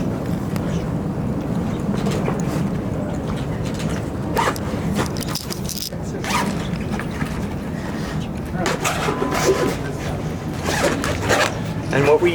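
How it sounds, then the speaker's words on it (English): Close, scratchy zipping runs in several long pulls and short tugs as a zipper is zipped up around a heatstroke patient at an ambulance, over a rumbling vehicle-like background with a voice talking at times. "We're going to zip this up."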